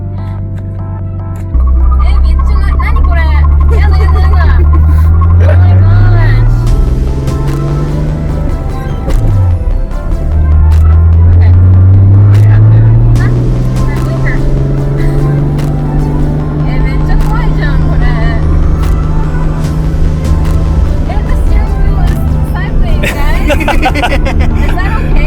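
A drift car's engine revs hard and accelerates up through the gears with rising and falling pitch sweeps, loud and close from inside the cabin, with people talking and exclaiming over it.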